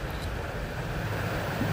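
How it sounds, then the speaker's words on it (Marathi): Monsoon rainwater rushes along a street at night in Chhatrapati Sambhajinagar, a steady, full-bodied wash of flowing water mixed with rain and wind rumble, continuous and close with no talk. "रस्त्यावर वाहणाऱ्या पाण्याचा खळखळ असा आवाज हा मनाला तृप्त करून जातोय"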